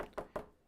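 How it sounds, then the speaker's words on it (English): Two sharp knocks on a door, close and fairly loud, spaced evenly apart, with a short decay after each and no voices. "Catherine knocks on the door and hears a subtle sound of its unlocking."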